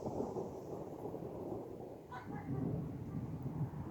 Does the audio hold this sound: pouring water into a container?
no